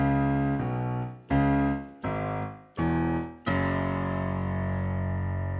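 Keyboard plays a melody in octaves: five separate sustained notes struck one after another at about one per second, the last held and ringing out, clear and close with no talking.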